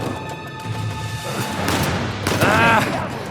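Gunfire in the video game Uncharted, a burst of shots and impacts rising toward the end of the moment, mixed with game sound and background music, fairly loud.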